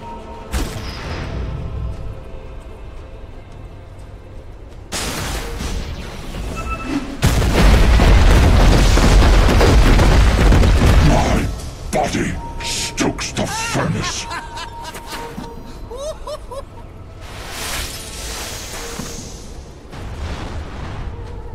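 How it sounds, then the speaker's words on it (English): Booming explosive hits on a tower under attack in a Dota 2 match, heavy bursts around the middle with scattered game effects, mixed with crowd and caster talk at an e-sport venue. "Radiant's bottom tower is under attack."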